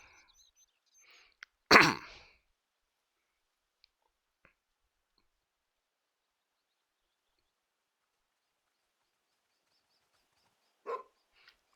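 Hunting dog in The Hunter: Call of the Wild set in Scotland, one sharp bark close by, then long near-silence before a fainter, softer bark or huff near the end.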